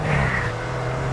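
A new BMW M5 pulls away hard at the start of a drag race against a Skoda VRS. The engine note is a steady, loud, sustained drone, with no voices over it.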